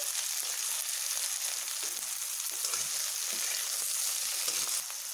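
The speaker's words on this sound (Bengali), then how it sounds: "নুনগুলো মিশিয়ে ভালোভাবে ভেজে নেব ঝিঙেগুলোকে" Salted ridge gourd fries in a pan with a steady, close sizzle that keeps a dense, crackling hiss going the whole time.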